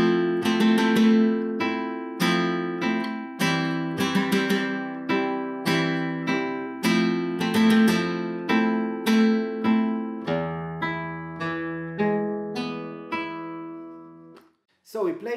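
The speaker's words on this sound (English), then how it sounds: "And we can also add a four finger rasgueiro." A flamenco guitar plays a soleares rhythm with four-finger rasgueado strums, giving bright rolling chord bursts in a steady accented cycle, close and sustained for about fifteen seconds, with no talk over it.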